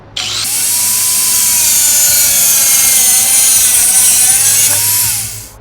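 A loud, continuous high-pitched whine of a power tool cutting bone ash cupel molds, holding steady for about five seconds with a slight pitch dip midway before it cuts off.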